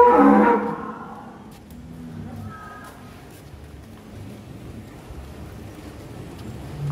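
At a cattle farm holding about a thousand sacrificial cows, a single deep moo sounds close and loud at the start, followed by quieter low pen noise and faint distant calls.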